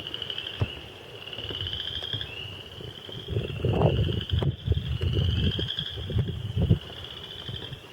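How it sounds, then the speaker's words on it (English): Chorus frogs call from reeds in a continuous high, rasping trill chorus that rises and falls nearby, with soft rustling and brushing sounds close by. "Here's the chorus frogs. Right in these reeds up here."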